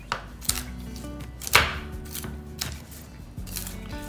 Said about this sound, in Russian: Теперь орехи нужно немного порубить.